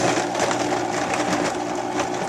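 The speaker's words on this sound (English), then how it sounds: "we're going to kick on the Vitamix, and it's going to start to swirl everything up" A Vitamix blender whirs through a smoothie, a loud, close, steady motor roar with churning texture across the full couple of seconds, with no speech.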